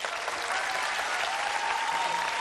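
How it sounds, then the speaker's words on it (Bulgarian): Steady, loud applause from a TV studio audience, continuous clapping filling the whole stretch without a break. "Аплодисменти за Азис."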